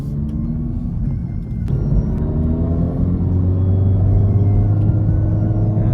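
A 2024 Acura Integra Type S driving on a road, its engine droning low and steady under road rumble, with the pitch climbing gradually as it accelerates through the gears, loud and close from inside the car.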